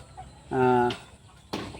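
A short burst of harmonic clucking from a crested hill hen, one sustained call, then a brief rustle after a pause.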